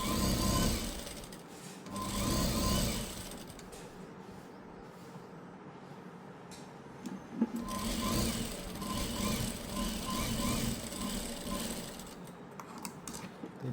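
A sewing machine runs in several bursts while stitching a blouse, its rapid mechanical whirr starting and stopping at close range.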